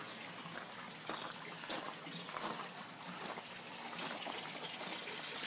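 Water pours and trickles steadily from an inflow pipe into an aquaponics grow bed, part of a system plumbed with 1 1/2 inch pipe, a close, continuous splashing flow with small surges and no talking.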